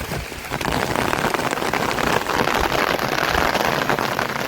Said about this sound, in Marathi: आता पण जोरात पाऊस पडतोय आवाज ऐकूच शकता